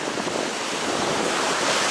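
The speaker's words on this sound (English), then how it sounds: "the waves are pretty strong as well" Strong ocean waves break on Kalutara beach in Sri Lanka, a loud, continuous broadband roar of surf and wind with no voices.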